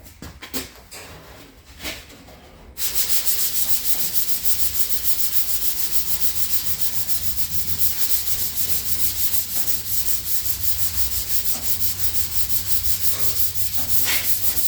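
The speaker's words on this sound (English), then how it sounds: "Let's go ahead and start block sanding this." Hand sanding the painted bed of a 1998 S10 truck with a block: after a few quiet knocks, a steady, loud rasping scrape runs continuously in quick back-and-forth strokes.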